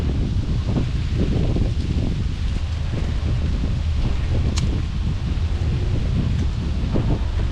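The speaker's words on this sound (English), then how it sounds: "Sorry about the wind." Wind gusts across the microphone at a catfish fishing spot, a loud and continuous low roar with rustling that lasts the whole time and has no talk over it.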